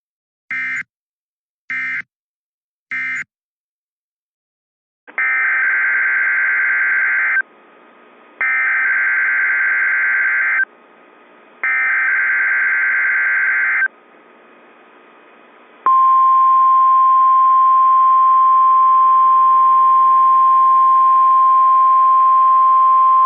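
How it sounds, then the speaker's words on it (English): A NOAA weather radio test sounds three short data bursts, then three long buzzing alert tones with gaps, followed by a steady piercing single-pitch warning tone that holds loudly to the end. "This is a test of the NOAA weather radio warning alarm device"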